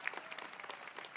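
An audience at a new student convocation claps, a brief, fairly faint patter of many hands at a steady level.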